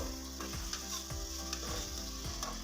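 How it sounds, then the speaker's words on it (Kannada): Medium-sized tomatoes fry in a pan for a village-style tomato bath, giving a steady, close sizzle with small clinks and stirring scrapes that recur every half second or so; no one speaks. "ಟೊಮೆಟೊ ಹಾಕ್ಕೊಂಡು ಇದನ್ನೆಲ್ಲ ಚೆನ್ನಾಗಿ ನಾವು ಫ್ರೈ ಮಾಡ್ಕೊಳ್ಬೇಕಾಗತ್ತೆ ಸಾಫ್ಟ್ ಆಗೋವರೆಗೂ"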